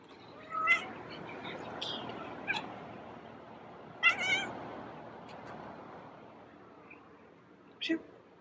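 A cat meowing several times at close range, short separate calls spaced a few seconds apart over quiet room noise, with a person speaking softly between them.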